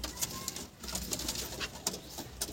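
A Benarasi homing pigeon coos softly in a loft, repeated low calls over light background noise, with no talking.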